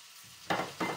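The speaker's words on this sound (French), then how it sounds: "Allez, on fait chanter nos oignons et l'ail." Onions and garlic hit a hot pan for a homemade moussaka, two sharp bursts of sizzling and stirring that fade slightly after each, close and clear with no talk.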